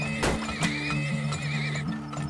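Horses in the oil-drilling game Turmoil give a sharp whinny followed by a second neigh, with soft clip-clop hooves under a steady musical backdrop throughout.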